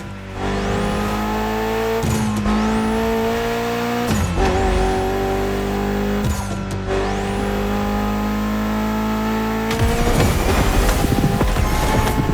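A Mitsubishi inline four-cylinder making about 280 horsepower revs hard through repeated gear changes in The Crew Motorfest, each pull rising to a high scream before a brief drop, ending in a rougher, louder burst, close and loud.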